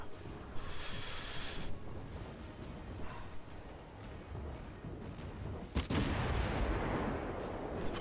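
Guns of the German tier II light cruiser Dresden firing in the video game World of Warships: muffled booms over a constant rumble of sea and wind, with a sharp, loud blast near the six-second mark followed by a rolling roar, and no talking.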